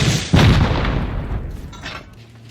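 A loud, close rocket blast booms against a bunker in the console game Rust, with a heavy low rumble that decays, then a second fainter impact follows.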